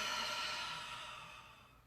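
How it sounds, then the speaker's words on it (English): A long, audible exhale through the mouth during a breathing exercise, a close breathy rush that fades steadily over about two seconds, with no speech. "inhale and exhale through the mouth"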